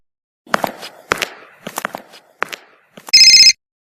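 A telephone gives one loud, electronic, warbling ring burst near the end, following a few scattered, softer knocks and movements in an otherwise quiet room.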